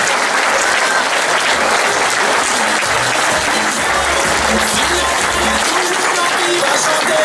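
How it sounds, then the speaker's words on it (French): A crowd at a rally podium ceremony for side-by-side off-road vehicles claps loudly and continuously, with voices mixed into the steady applause. "Vous pouvez nous applaudir."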